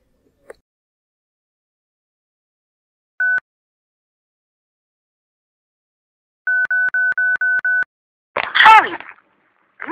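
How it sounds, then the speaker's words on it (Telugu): A mobile phone on speaker sends out a call: a single short tone, then a rapid series of evenly spaced ringback beeps, followed by a brief burst of voice-like noise; otherwise quiet. "రింగ్ అవుతుందిరా. అరే అయితే స్పీకర్ ఆన్ చేద్దాంరా."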